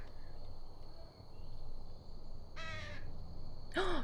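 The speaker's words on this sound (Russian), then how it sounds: "Вороны! Вороны!" Crows caw in a quick harsh burst, then again moments later, over a steady outdoor noise bed with a faint insect-like whine.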